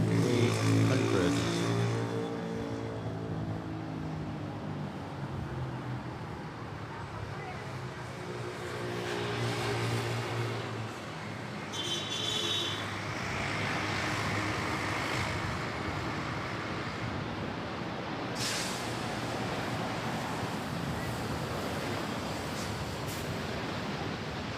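An airliner landing at Manila Airport, heard as a broad, steady roar of engine and rolling noise at moderate distance, with a fluctuating tonal whine early on and talk mixed in.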